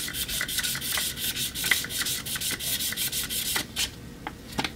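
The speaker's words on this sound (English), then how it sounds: "And your sandpaper is best when it's fresh, so just find a new surface if it feels like it's wearing down a bit." Hand sanding with fine 600 to 800 grit sandpaper while polishing the inside of a marker, quick back-and-forth rubbing strokes in a steady rhythm, close and soft.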